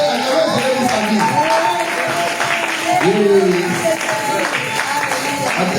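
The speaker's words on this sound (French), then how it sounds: "Applaudissez, acclamez pour sa vie." A church congregation at a Christmas and New Year service claps and cheers loudly and continuously, with a voice speaking over the crowd throughout.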